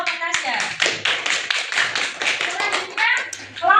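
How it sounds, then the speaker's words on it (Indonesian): Classroom students clap in a quick, uneven burst of close hand claps at an Islamic religious education lesson, with children's voices running over the clapping at moderate loudness. "Tepuk tangan"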